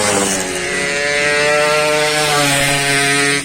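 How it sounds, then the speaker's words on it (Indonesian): Motorcycle engines rev loudly and steadily near Stadion GBLA in Bandung, with bikes passing close by in a continuous droning roar that rises and falls in pitch throughout. "Jadi banyak yang lewat, banyak yang tes motor di sini."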